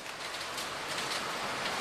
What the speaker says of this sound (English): The rain has just not stopped.